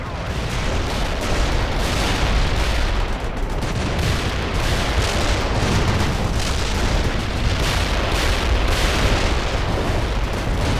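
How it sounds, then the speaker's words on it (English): A heavy artillery barrage pounds away in a real-time strategy war game, dense continuous booms and blasts rolling together into a loud unbroken roar for the whole stretch. "Coordinates received. Artillery firing."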